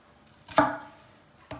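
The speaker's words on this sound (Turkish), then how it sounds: "Soğanını çok ince doğrayacağız." An onion being finely chopped with a knife while preparing Turkish dried bean stew, two close, sharp knife thuds on a cutting board separated by a short pause.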